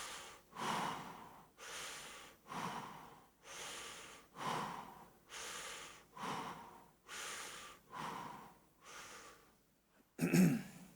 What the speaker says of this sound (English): Breathe in 6 times.